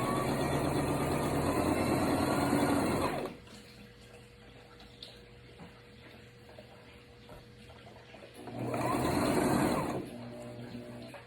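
Sewing machine stitching gathered tulle into a ruffle, two bursts of fast, steady motor whirring and needle clatter separated by a quiet pause with faint hum, close and fairly loud.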